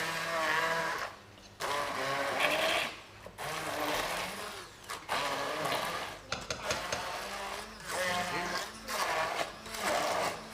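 Blender pulsing through cooking ingredients for a shrimp and mussel rice dish, in repeated bursts of whirring separated by short pauses, with people talking over it.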